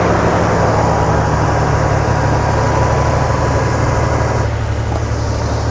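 A car engine idles with one cylinder not firing, a loud, steady low rumble filling the whole stretch with no talking.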